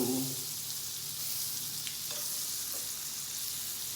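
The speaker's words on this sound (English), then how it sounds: "let it sizzle." About a tablespoon of butter sizzling in a hot frying pan, a steady bright hiss that fills the whole stretch, with a brief low clunk at the very start and faint pops scattered through.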